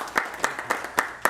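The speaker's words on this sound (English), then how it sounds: "Give her a round of applause" A small group claps at a school board of trustees meeting, five or six distinct, fairly loud claps spaced evenly in a steady rhythm over a little more than a second, with no one speaking.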